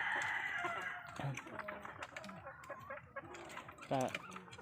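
Hens cluck and cackle near the microphone amid rustling and scratching, with a few sharper squawks breaking through.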